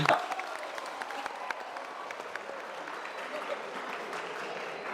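Dense, steady applause from an audience at a motivational success-mindset lecture in Santo Antônio das Missões, filling the whole stretch at an even level with a brief louder burst at the start.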